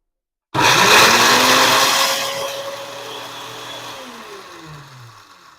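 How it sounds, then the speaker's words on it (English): A blender loaded with pomegranate shells and seeds starts suddenly with a loud whirring roar, then settles into a lower, steady hum that gradually weakens over several seconds as the blade stalls. "I'm gonna press the mix mode of the blender"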